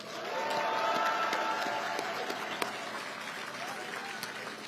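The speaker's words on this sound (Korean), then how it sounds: "그런 의미에서 우리 서로 격려의 박수 한번 부탁드립니다." Crowd applause at an outdoor presidential campaign rally in Chuncheon, Gangwon Province, a sustained, dense wash of clapping from a large audience that holds steady and slowly thins toward the end.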